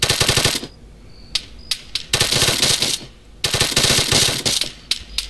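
Rapid automatic gunfire crackles in ArmA 3, loud and close, coming in several sharp bursts with short pauses between them.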